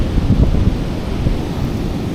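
Ocean surf breaks on a New Zealand shore in a broad low rumble, with heavy wind buffeting the microphone and a couple of louder surges early on; no talking.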